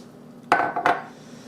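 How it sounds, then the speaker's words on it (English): Two cups of diced apples tipped into a bowl for apple bread, two quick clattering knocks of fruit hitting the bowl a beat apart, then a soft settling rustle. "Here goes my 2 cups of diced apples."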